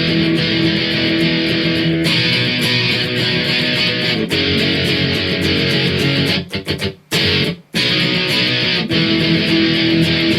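Distorted electric guitar strums chorus D of a song in a driving, steady pattern, with a brief stuttering run of muted stops near the end before the strumming resumes loudly.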